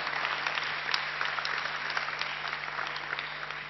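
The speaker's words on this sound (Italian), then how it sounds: "facciamo anche un applauso a questi colleghi che hanno messo insieme questo materiale" Audience applause fills a meeting hall, a steady, even wash of many hands clapping at moderate loudness for the whole stretch, with no voices over it.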